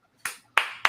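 Three sharp hand claps, close and fairly quiet, spaced unevenly in a quiet room with no talk over them.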